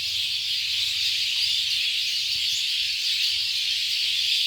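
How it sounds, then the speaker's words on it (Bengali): A dusk flock of birds twitters and chirps continuously, a dense, even chorus heard at moderate distance with no talking. "দেখেন পাখিদের কিচিরমিচির কত শব্দ।"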